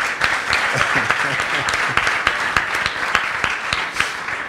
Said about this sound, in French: Moi, j'ai envie de vous applaudir pour ça.